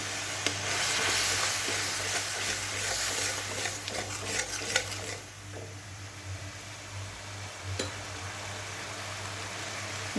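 Ginger and chili paste fries in a pan with onion and tomato paste for a prawn and poppy seed curry, a steady loud sizzle with stirring scrapes that calms partway through, no voices.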